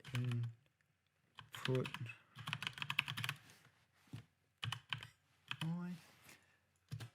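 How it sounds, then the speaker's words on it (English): Someone types a command into a computer terminal, producing brisk runs of close keyboard clatter that alternate with short spoken phrases. "If we type in Python"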